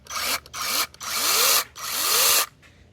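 Votrek 8-inch cordless brushless mini chainsaw revving in four short bursts, each a loud whine rising in pitch then stopping, close by with no talking.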